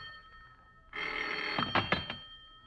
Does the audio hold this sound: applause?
no